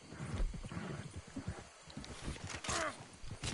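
A horse in a video game snorts and its hooves clop heavily up close. The sound is loud and uneven, with a whinny-like cry near the end.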